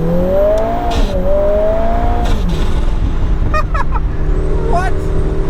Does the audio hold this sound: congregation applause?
no